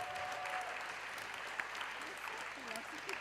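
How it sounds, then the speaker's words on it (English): Audience applauding panelists at the close of a conference plenary session, a steady, moderately distant wash of clapping that holds evenly throughout, with faint voices murmuring underneath. "can we give all the panelists today a round of applause?"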